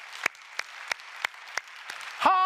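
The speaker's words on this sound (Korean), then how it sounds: "하나님께 영광에 박수합시다." A church congregation claps for the glory of God during a sermon at Yanggok Church, with about six sharp, evenly spaced claps in slow unison. A sustained organ-like tone swells in at the end.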